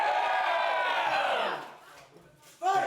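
A crowd roars and cheers at a long sword tournament, loud and sustained at first, then fading before a fresh burst of shouting erupts at the end.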